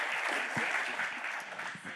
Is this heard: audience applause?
yes